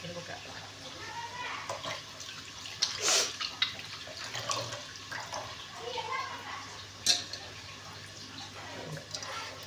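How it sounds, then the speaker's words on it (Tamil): Water poured from a tumbler into a pot of cooked rice, a splashing, trickling pour with a brighter burst midway, heard close up against faint background hum and some talk. "இதை இப்போ கொஞ்சம் இன்னும் கொஞ்சம் 1 டம்ளர் தண்ணி ஊற்றி"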